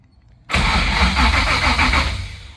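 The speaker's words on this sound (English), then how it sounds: "Crank the motor over." An LS engine in a Ford Ranger cranks briefly and catches, then settles into a loud, steady idle close by with no talking.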